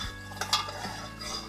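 Semolina poured into sugar syrup with coconut and raisins in a pan and stirred hard, giving brief clinks and scrapes of a spoon against the metal over a soft sizzle.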